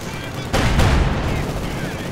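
A burst of battle noise from Company of Heroes 2: a Sturmgeschütz assault gun fires a loud boom amid crackling gunfire, rumbling on as a game commentator talks over it.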